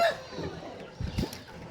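A few short, soft clucks from hens nearby, brief and scattered over a quiet background.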